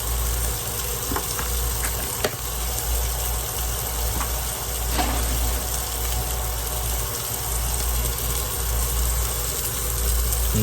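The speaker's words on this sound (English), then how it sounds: "Let's let this simmer for a bit." Steak simmering in garlic butter on a hot plate gives a steady, close sizzle and crackle with a constant low hum underneath, a few sharper pops and spits rising out of the frying noise.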